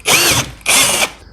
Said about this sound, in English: I had a 3/8 bit drill bit here, so I just use that to drill them through